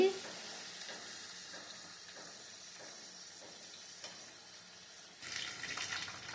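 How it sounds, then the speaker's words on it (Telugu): Whole Indian gooseberries (amla) frying in hot oil in a pan for a traditional Andhra pickle, giving a steady soft sizzle throughout that brightens and grows louder near the end, with no talk. "ఇలా ఉసిరికాయలన్నిటినీ నూనెలో వేయించుకొని ఇలా పక్కన పెట్టుకోవాలి"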